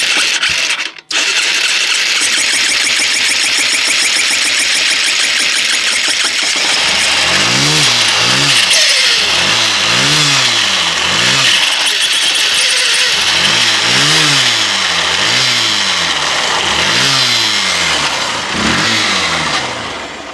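A Honda CBF 125 motorcycle engine with an internal fault is cranked and catches after a brief starter burst, then idles with a rough mechanical rattle and is blipped through a series of rising and falling revs, loud and close.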